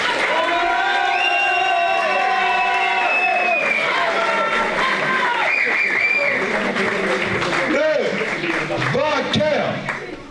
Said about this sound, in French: s'ils ont fait un beau combat, un beau spectacle, veuillez les applaudir.